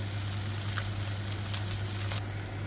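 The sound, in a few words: Spam frying in a pan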